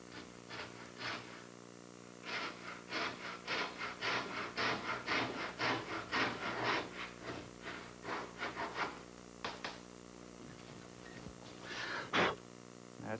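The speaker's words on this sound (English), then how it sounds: "now if I run the saw right down the joint" A hand saw cuts down a joint in a wooden boat under construction, producing a steady series of rasping strokes, close and fairly quiet, with a brief pause partway through.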